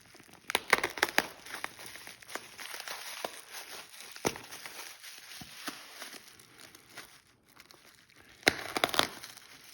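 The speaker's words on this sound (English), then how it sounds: "There's so much tape on this, I think I'm just gonna cut it." Bubble wrap package with heavy tape being cut open, a series of faint close crinkles, snips and rustles in uneven bursts, louder near the start and end.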